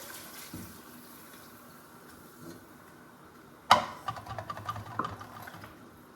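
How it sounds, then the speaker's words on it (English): Broth pours into a pot for a seafood pie, a short gurgling splash after a quiet stretch, close and moderately loud. "I'm gonna put the broth, all this broth"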